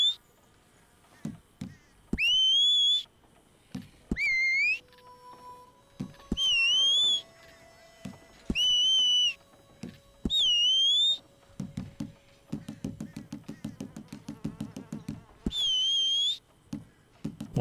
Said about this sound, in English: I like that you can do the whistle.